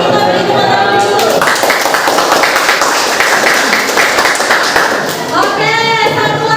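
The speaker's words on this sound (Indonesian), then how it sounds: "Kita beri tepuk tangan dulu." Clapping from a classroom audience during group presentations, loud and rhythmic in the middle, with voices and children talking before and after.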